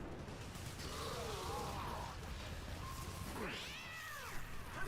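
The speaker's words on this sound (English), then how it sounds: "Vaska Kavat, kitty, come here!" Vaska Kavat, a feline creature in the video game Warframe, meows and caterwauls in several rising and falling cries, with a loud yowl near the end over steady mechanical game ambience.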